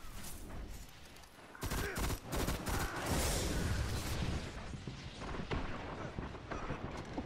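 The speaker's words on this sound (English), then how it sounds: "I shot this kid point blank" Gunfire in a video game shooter rattles in loud, rapid bursts of repeated shots, clustered and overlapping, then tapers into scattered fainter reports.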